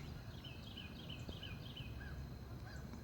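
A goose honking outdoors, a string of short nasal calls repeating at an uneven pace, fairly faint against a steady background rumble.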